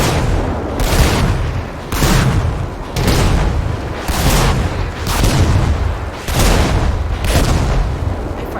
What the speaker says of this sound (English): I'm gonna put missiles on it, and now I'm gonna show you how much should the Rhino tank actually take.